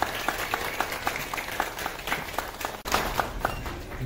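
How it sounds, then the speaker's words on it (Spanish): A crowd at a baptism party in Lima, Peru applauding steadily, with rhythmic claps standing out over a continuous patter of hands, fairly close and moderately loud. "Fuerte ese aplauso, por favor."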